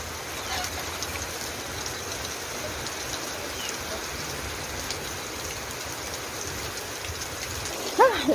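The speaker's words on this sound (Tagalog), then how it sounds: "Ayan, umuulan na." Heavy typhoon rain pours down steadily, a dense, constant hiss of water drumming on surfaces nearby, unbroken throughout with a brief louder knock near the end.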